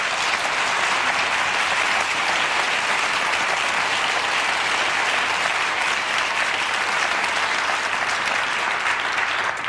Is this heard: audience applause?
yes